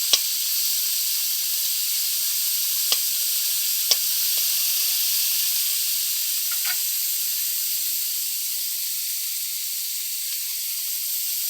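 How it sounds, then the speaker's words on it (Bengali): Chopped banana flower frying in a wok for a chowmein dish, a steady loud sizzle and hiss with a few faint ticks of stirring, no voices. "কড়াটা কালো হয়ে যাবে বলে মোচা কাটা পরে ভাজা হচ্ছে"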